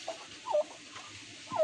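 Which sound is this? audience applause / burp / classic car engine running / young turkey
young turkey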